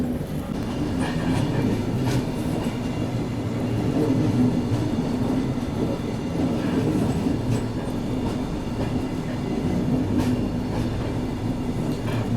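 The Bundelkhand Express, hauled by a Kanpur-shed WAP-7 electric locomotive, rolls steadily through a curve, a continuous loud low rumble with occasional wheel clicks and rattles heard from inside the train.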